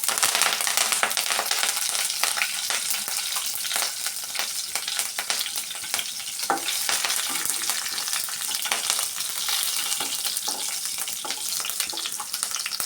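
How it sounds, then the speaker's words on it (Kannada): Mustard seeds and cumin crackle and pop in hot oil with curry leaves and green chili, a continuous bright, close sizzle full of rapid spattering pops throughout. "ಸಾಸಿವೆ ಜೀರಿಗೆ ಎಲ್ಲನೂ ಚಿಟ್ಪಟ ಅಂತ ಸೌಂಡ್ ಬಂದಮೇಲೆ"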